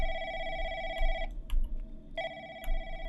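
Electronic telephone ringing in the call-centre horror game The Lancaster Leak, two long tonal rings separated by a short pause, clear and fairly close, with faint background clatter between them.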